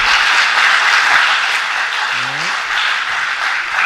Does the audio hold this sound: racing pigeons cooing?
no